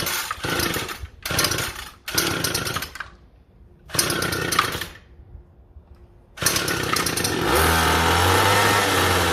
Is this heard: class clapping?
no